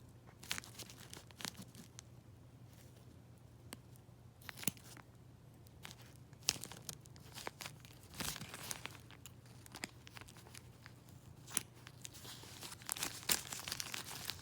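Scissors snip and crinkle around a Coloplast Sensura Mio ostomy pouch, giving faint, irregular cutting and crackling sounds close by, with no talking.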